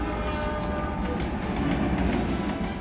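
A passenger train on the Balangir to Bichhupali line rumbles along steadily at close range, a dense continuous rolling roar with faint wheel clatter and no voices.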